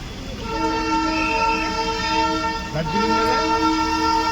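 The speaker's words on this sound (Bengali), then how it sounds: "টয় ট্রেনটা যাচ্ছে।" A toy train's horn sounds in long, steady blasts with rumbling engine noise underneath, nearby and fairly loud throughout, at Ghum station in Darjeeling.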